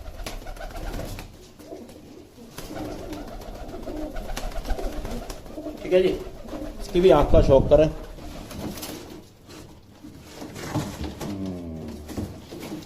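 Pigeons with clipped wings coo in short bursts, loudest around the middle, while someone talks over them throughout.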